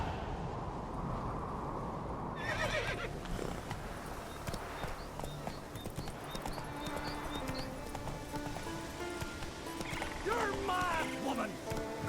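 Roach, Geralt's horse in The Witcher 3, whinnies and clip-clops along a Skellige shore while game music plays and characters talk over the hoofbeats throughout.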